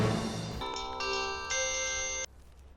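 A phone rings out on a call, a bright electronic ringtone that pulses for about two seconds in a few bursts and then cuts off abruptly, with no talking over it.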